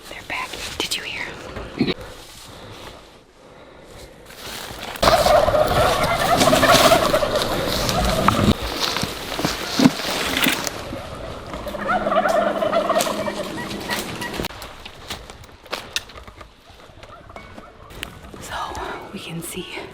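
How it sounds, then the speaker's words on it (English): Wild turkey toms gobble from a flock roosted in trees, rolling calls rising in bursts at a middle distance while hunters whisper close by during a spot-and-stalk hunt. "there's 2 gobbles right over there"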